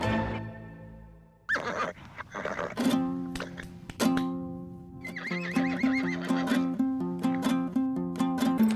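A horse whinnies loudly up close, its long wavering neigh rising and falling in repeated bursts over several seconds.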